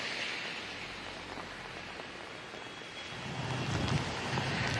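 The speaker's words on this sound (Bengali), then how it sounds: "বৃষ্টির সঙ্গে কিন্তু দমকা হাওয়াও কিন্তু রয়েছে" Steady rain hiss with a rumbling, blustery wind that swells louder toward the end, during Cyclone Remal in south Kolkata, no voices.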